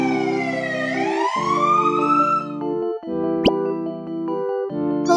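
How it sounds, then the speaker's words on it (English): A loud fire rescue truck siren alternating between two pitches in a steady hi-lo pattern, interrupted by rising and falling wails and a sharp pop. "Fire rescue truck."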